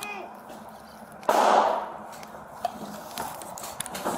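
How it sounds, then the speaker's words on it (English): A single sharp gunshot cracks out during a police bodycam recording, a sudden loud blast that decays quickly into background noise and a few faint knocks. "Hey, we got shot fired out here."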